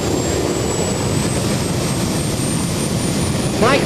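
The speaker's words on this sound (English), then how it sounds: "Mike Vaters is out here on this little bitty jet quad" A small Kamikaze jet-engine quad bike runs at KC Raceway in Waverly, Ohio, giving off a loud, steady jet roar with a high whine that slowly climbs in pitch, holding constant throughout.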